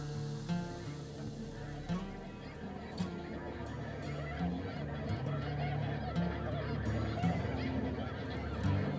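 Snow geese honk in a dense flock, a steady overlapping chorus of calls with occasional louder nearby honks, heard across a duck and goose hunting field.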